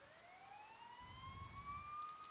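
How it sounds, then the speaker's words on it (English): Wailing siren from the video game Persona 4 Golden, a clear rising-and-falling tone carried over a low rumble, steady and fairly close throughout with no talk. "You hear sirens nearby."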